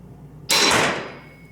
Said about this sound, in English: now we are going to squeeze the the back trigger for the bottom arrow